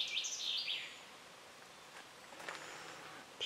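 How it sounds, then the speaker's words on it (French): Birds chirp and trill in a forest beside an abandoned village, with bright high calls early on and then faint scattered chirps over a quiet, rustling background. No one speaks. "on entend des oiseaux qui chantent"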